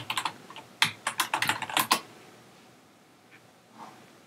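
A burst of quick keystrokes on a computer keyboard, about a dozen close, crisp clicks in fast succession over two seconds, then a few faint taps in quiet.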